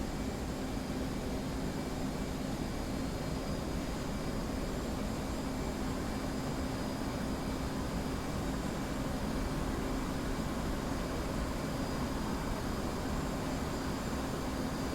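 An F/A-18 jet engine in the DCS flight simulator eases back out of afterburner, a steady, loud broadband roar with a constant whine, unbroken and with no talk over it.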